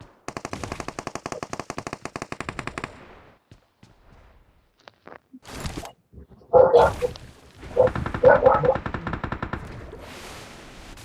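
Automatic gunfire in the mobile battle royale game BGMI (PUBG Mobile): rapid, loud bursts of shots for about three seconds, then scattered single shots and heavier, busier volleys with clatter later on.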